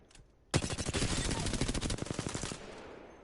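Rapid automatic gunfire in Apex Legends, a loud close burst of evenly spaced shots lasting about two seconds after a brief quiet start, then cutting off.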